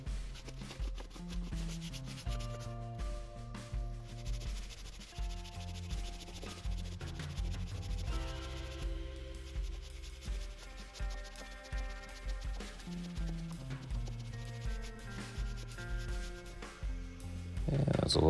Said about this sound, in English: broke out the orbital sander and made some quick work of it